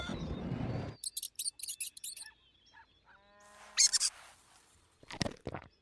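High, rapid squeaks of a cartoon mouse in a mobile dinosaur island game come in a short rhythmic run of chirps, followed by other scattered short game animal sounds.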